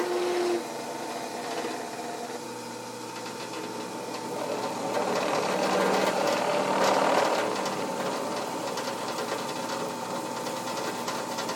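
Drill press running steadily while boring into aluminum or steel, a constant mechanical whir with a broadband cutting hiss that swells in the middle and holds for the full length, with no voices.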